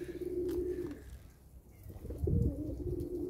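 Pigeons cooing nearby, soft low throaty coos in two bursts with a brief pause between, over faint outdoor background noise.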